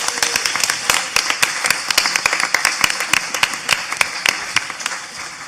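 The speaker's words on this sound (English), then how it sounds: "I think we should all give Jerry one more round of applause." Audience members at a symposium roundtable applaud, a loose patter of distinct, fairly sparse hand claps running steadily throughout.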